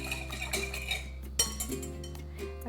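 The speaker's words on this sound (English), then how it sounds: "going to mix the marinade together into this bowl" Spoon clinks against a bowl while a soy sauce, sesame oil, sugar and garlic marinade is stirred for ground beef bulgogi, giving soft, irregular taps and scrapes that sit close and fairly quiet.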